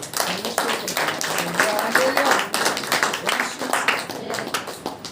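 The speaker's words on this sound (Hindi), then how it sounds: "ताली बजा करके" A church congregation at a Saturday prayer meeting claps their hands in a quick, rhythmic pattern. The claps run throughout, mixed with voices and music.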